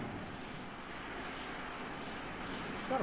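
A steady airplane engine drones without a break in old film footage, a broad constant roar that fills the moment with no voices over it.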